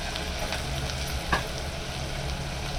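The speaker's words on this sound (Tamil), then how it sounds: "இப்போ வெங்காயம் சேர்த்துக்கிறேன்." Three finely chopped onions frying in hot oil, a steady dense sizzle at an even level with one brief clink partway through, close and without talk.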